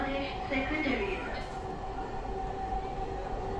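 A metro rail train pulls away at the start of its journey, a steady close rumble of the carriage with a sustained motor whine running throughout.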